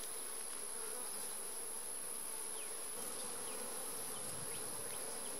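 Honey bees buzzing steadily around an open beehive during an inspection, a dense, moderately close insect drone with individual bees passing by, no talking.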